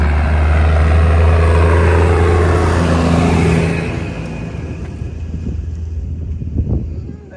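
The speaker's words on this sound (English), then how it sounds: "there's another tractor coming. This one's loaded up and it's dusty." A loaded tractor rumbles past along a dusty track, a loud low drone that is heavy with wind buffeting at first and then fades as it moves away.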